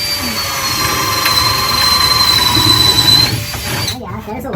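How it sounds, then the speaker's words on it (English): A power drill bores holes to run electrical wires through the framing of a shipping container build. It gives a loud, steady whining drone for about three seconds, then cuts out and leaves only quieter rumbling background noise. "Now we're going to drill our holes to run our wires."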